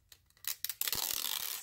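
Scissors snip the trunk off a Christmas tree sticker for a crystal-decorated coaster craft: a few light close snips, then a denser run of crisp cutting and paper-tearing sounds.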